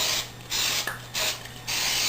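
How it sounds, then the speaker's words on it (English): Three short bursts of non-stick cooking spray hiss into a bread pan one after another, close and fairly loud, with brief pauses between them. "Give the pan a spray up the sides a bit so it doesn't stick there neither"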